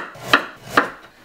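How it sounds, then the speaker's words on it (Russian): A knife slices carrots into thin plates on a board, giving two crisp, close cuts about half a second apart over a quiet background. "Морковку нарезаем пластинками."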